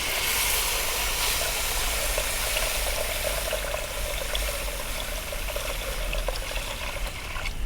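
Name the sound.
water added to fish curry in pan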